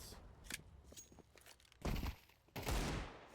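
Bursts of rifle gunfire and trading shots at the A bomb site in a Counter-Strike esports match, scattered single cracks early then two loud, dense volleys, with footsteps between.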